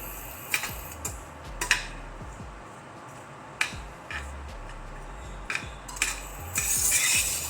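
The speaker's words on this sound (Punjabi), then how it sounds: "ਸਿਰਫ ਆਪਾਂ 2 ਮਿੰਟ ਇਹਨਾਂ ਨੂੰ ਫਰਾਈ ਕਰ ਲਵਾਂਗੇ" Dry fruits frying in a pan over a low flame, with sharp clicks and clinks of a spoon stirring against the pan at irregular intervals, fairly close, with a soft sizzle building near the end.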